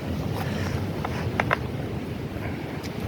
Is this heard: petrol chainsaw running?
yes